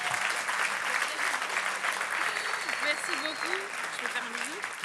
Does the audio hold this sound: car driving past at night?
no